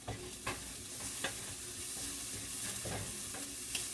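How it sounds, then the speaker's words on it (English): Onions for chicken fried rice cooking in a pan, a steady soft sizzle with occasional scraping stirs of a utensil, close up and fairly quiet, with no talking. "we got the onions cooked pretty good there."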